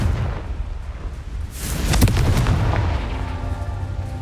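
Confringo blasting spell going off in Hogwarts Legacy, a boomy game explosion swelling up around the midpoint and rumbling on over a low steady background, with no voices.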